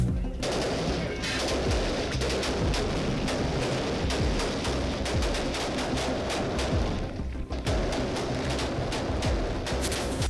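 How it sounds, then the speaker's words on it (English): Gunfire erupts during a Marine raid through building hallways, dense bursts of rapid shots and cracks overlapping in fast irregular volleys for several seconds, loud and close with no clear talking. "Moment by moment, Marines sweep through hallways with their weapons, when suddenly, gunfire erupts."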